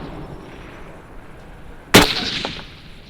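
One sharp, loud rifle shot fired from a slanted rail at an outdoor tactical sniper challenge in Alabama, cracking out of quiet surroundings and followed by a short echoing tail with faint ringing.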